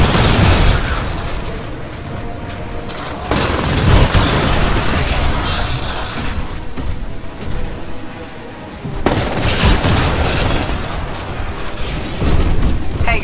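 Heavy explosions tear apart a turret during a Titanfall Frontier Defense match on the Dig Site map. Several loud, booming blasts hit at intervals over a steady roar of gunfire and battle noise.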